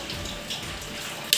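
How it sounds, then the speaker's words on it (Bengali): Milk being poured from a container into a cooking pot, a steady liquid splash and trickle running continuously and close, ending in a brief sharper clink. "দুধগুলো আমি ঢেলে নিচ্ছি"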